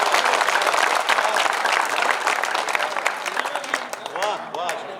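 An audience at a Hindi humorous and satirical poetry gathering breaks into sustained, dense applause that stays loud and steady, slowly thinning toward the end, with voices mixed in.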